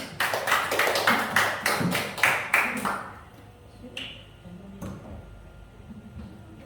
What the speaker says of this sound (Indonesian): Beri aplaus kepada Ibu ini.